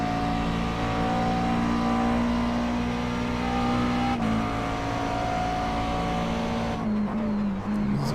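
A McLaren race car in iRacing at Sebring drones loudly and steadily in high gear, its engine tone holding near-constant with a slight pitch dip and a shift near the end, close and continuous with no talk.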